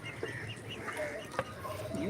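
Farm chickens cluck softly while feeding on scattered wheat alongside pigeons and goats, a faint scattering of short calls near and far with a few sharp squawks and a brief rustle.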